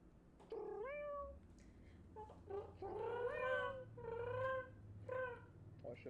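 A person imitates a cat with a string of drawn-out, rising and falling meows, several in a row at close range over a steady low background hum, in a playful exchange during a Fortnite game session.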